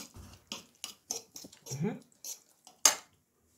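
Herring pieces being turned with oil using a spoon, producing scattered scraping and clinking knocks against the dish, separated by short silences and ending in one sharp clank.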